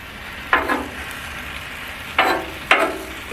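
A grilled sandwich on a Blackstone griddle gives three sharp sizzling bursts as it is turned and pressed, each flaring loud and then fading back to a low background fry.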